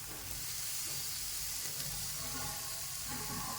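Coarsely chopped ginger and garlic paste frying in hot oil for dhaba-style paneer masala, a constant close sizzle and hiss filling the whole short stretch without talk.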